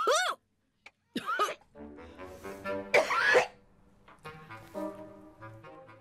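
A woman coughs repeatedly in rough, harsh bursts with throat clearing after breathing a sprayed cleaning product, followed by hoarse vocal sounds after the fit.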